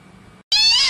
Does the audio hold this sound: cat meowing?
yes